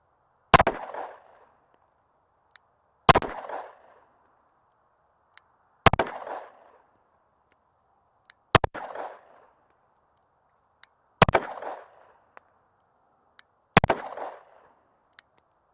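Glock 43X MOS pistol fired at an outdoor range from 25 yards, six sharp loud shots spaced evenly about two and a half seconds apart, each with a short ringing tail, no voices.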